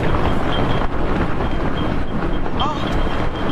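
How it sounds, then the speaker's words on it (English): Strong outdoor wind buffeting a microphone in Toronto, a constant loud low roar and rumble filling the whole stretch with little change, a faint voice or tone briefly audible beneath it. "A little windy."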